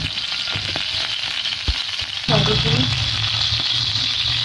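Turkish kebabs fry in a pan with a small amount of oil. A steady, close sizzle runs throughout, then swells louder and denser partway through and stays strong to the end.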